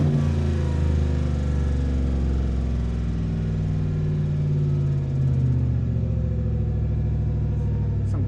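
The engine of a 2014 Chevrolet Silverado, with a sticking throttle body and many fault codes, gives a steady close rumble that swells slightly in pitch after a light throttle tap.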